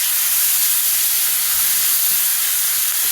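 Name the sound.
garlic frying in oil with mustard seeds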